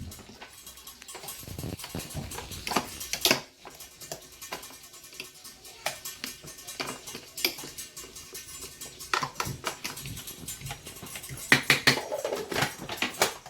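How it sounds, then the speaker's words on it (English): White sauce being stirred in a pot, with intermittent clinks and taps of a utensil against the pot's sides and bottom, irregular and fairly close, with quiet gaps between strikes. "So what I'll do is I'll just stir it."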